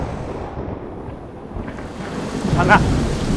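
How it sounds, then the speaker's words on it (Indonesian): Low rumbling thunder before rain rolls on steadily at moderate loudness, building slightly toward the end, with wind-like noise and no talking. "Ini kayaknya mau hujan."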